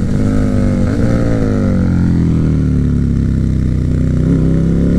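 KTM Superduke 1290R motorcycle engine revving loud and close, a deep continuous roar with rising and falling pitch as the throttle opens, filling the whole stretch with no talk over it.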